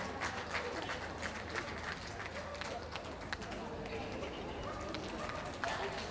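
Audience at a Southern Counties dog show claps continuously, a busy even patter of many hands heard close with some crowd noise, lasting the whole stretch.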